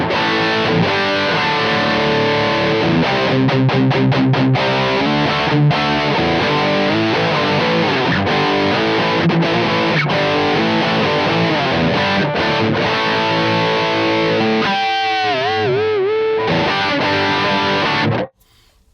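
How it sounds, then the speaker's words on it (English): A heavily distorted electric guitar through a high-gain amp, chugging riffs and sustained chords with squealing bends near the end before cutting off. "it's a high-gain amp, and I mean this is the default sound"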